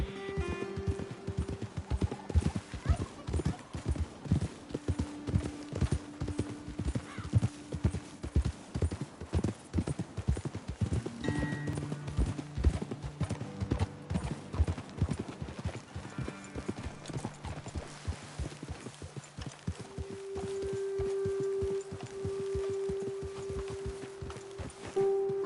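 Horse hooves clip-clop steadily on a trail in Red Dead Redemption II, several horses walking close by in a constant rhythm with occasional snorts, under game music and brief voices.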